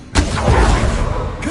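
A Confringo blasting curse cast in a video game: one sudden, loud thud-like blast with a sharp attack, followed by a dense rumbling wash that lingers and then tails off.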